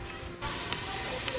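Onions and garlic browning in a soup pot give off a soft, steady sizzle, low and even throughout, with a couple of faint clicks.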